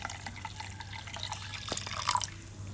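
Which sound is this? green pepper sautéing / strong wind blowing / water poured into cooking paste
water poured into cooking paste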